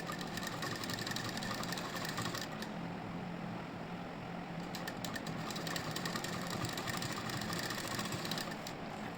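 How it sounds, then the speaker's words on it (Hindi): A sewing machine stitches lace onto a kurti sleeve, a steady fast mechanical whirr running continuously at low volume with a brief pause partway through. "जैसे ऊपर रखना है इसको और इस पर सिलाई लगानी है बहुत ही आराम से"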